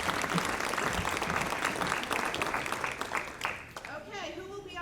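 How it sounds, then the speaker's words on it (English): An audience applauds the speakers at a community access-to-justice summit, with dense clapping that builds and then thins out, and a voice begins speaking as the applause fades. "Please give them a round of applause."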